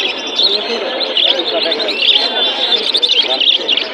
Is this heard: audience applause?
no